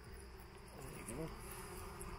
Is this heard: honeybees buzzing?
yes